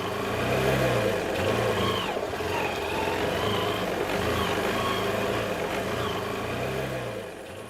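A vehicle engine hums steadily while driving at night, a medium-pitched drone with slight rises as it picks up speed, continuous and fairly close, with no talking.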